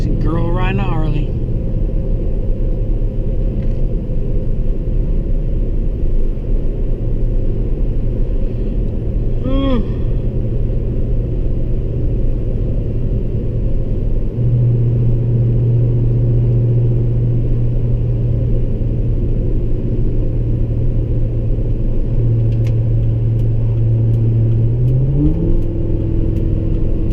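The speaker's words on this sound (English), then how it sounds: "Girl riding a Harley." A Harley motorcycle ridden by a girl rumbles steadily throughout, its low engine drone rising in pitch near the end as it accelerates, with voices talking over it.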